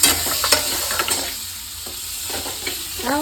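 Onion frying in a pan on a gas stove in a home kitchen, giving a steady broadband sizzle with a few stirring scrapes, fairly close, with no talk over it.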